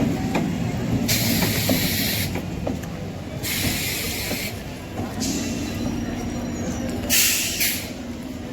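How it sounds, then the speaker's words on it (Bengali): A train pulls out of the station toward Ranaghat Junction on the Krishnanagar–Ranaghat line, with a steady rumble of wheels and carriages and several loud bursts of air-brake hiss. Faint wheel squeal runs throughout. "সেই ট্রেন এখন ছেড়ে চলে যাচ্ছে রানাঘাট জংশন।"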